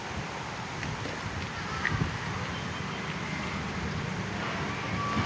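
Steady, broad rush of strong wind with faint rustling and buffeting on the microphone, continuous throughout with no clear gusts or pauses.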